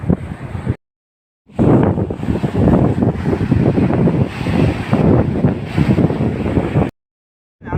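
Strong coastal wind buffets the microphone near engine-powered fishing boats at Kaluvanchikudy, a loud continuous roar with gusting swells, cut by two brief dropouts, with no talking.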